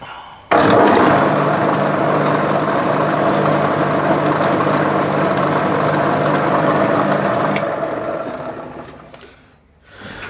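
A drill cutting a spot hole into an empty steel CO2 cartridge for a homemade air gun spinner target, a loud steady whirring grind running for about eight seconds before winding down.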